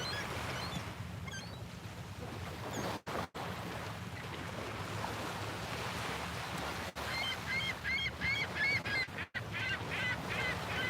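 Ocean waves wash in a steady, windy roar on a dark early morning shore, with goose-like honking calls breaking through in the later seconds.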